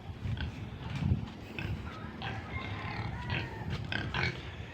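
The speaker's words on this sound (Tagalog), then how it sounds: "ito po yung aking native na baboy dalawa" Two native pigs grunt and snuffle nearby in a busy, uneven stream of low snorts and squeals, with some rustling and shuffling around them.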